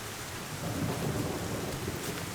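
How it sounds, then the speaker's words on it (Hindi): Steady heavy rain falling with a low rumble of thunder, a dense continuous wash of sound with no voices. "बारिश होती ही रहेगी।"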